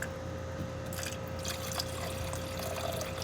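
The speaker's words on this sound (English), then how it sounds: "So you'll see me pour in muriatic acid first." Muriatic acid poured onto nearly pure gold for refining gives a steady, close liquid trickle and splash that runs without break and with no talk.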